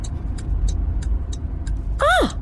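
A car moves through an air show car park, its engine a low rumble under a run of evenly spaced clicks, followed by a short, loud, swooping whistle-like tone at the end.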